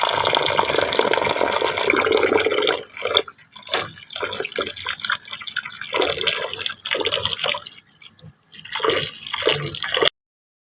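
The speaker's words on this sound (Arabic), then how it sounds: "هنيجي بقى في الوقت ده ننقع الفريك بتاعنا ونغسله كويس جدا" Freekeh grain soaking and being washed in water, with steady splashing and dripping that breaks into intermittent bursts and short pauses, close and fairly loud with no voices.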